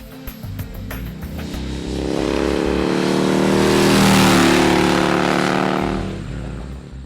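A Husqvarna Nuda 900R motorcycle engine revs up loud and close, swelling to a sustained high-rev roar around the middle before easing back down, with no talk over it.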